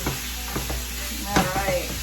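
Garlic and onion frying in a hot pan on high heat, a steady sizzle with a few soft stirring scrapes and clatters, close and fairly loud.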